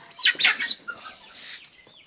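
Chickens cluck softly at close range in a short burst of bird calls that trails off.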